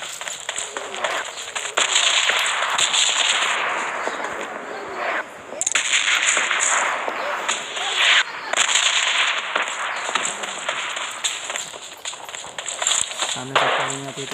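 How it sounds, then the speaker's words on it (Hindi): Rapid gunfire from bots in an online shooter game crackles almost continuously at close range, dense bursts with short gaps, under a voice talking over the action. "सामने से फायरिंग आती है, तो जाते हैं जोन की ओर।"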